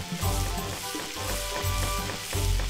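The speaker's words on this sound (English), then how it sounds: "Sizzling!" Food sizzles in the video game Magic Pengel, a crackling fry rising and falling in pulses beneath a layered, tonal game soundtrack.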